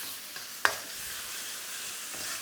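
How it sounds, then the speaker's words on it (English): Minced pork stir-fried over high heat in a pan with dark soy gives a steady, fairly loud sizzle throughout, with one sharp clink or scrape of a utensil early on. "so I'm going to let that bubble up nice and vigorously before I do anything else"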